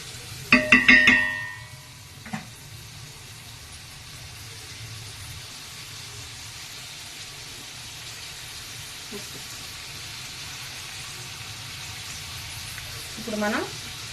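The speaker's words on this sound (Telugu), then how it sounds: "బట్టర్ వేగక ముందే మనం బిర్యానీ ఆకు, ఆనియన్ వేసేసి బాగా కలుపుకోవాలండి" Bay leaf and onion fry in melting butter with a steady, soft sizzle, opening with a few clattering stirs and a later faint scrape, everything fairly quiet and close.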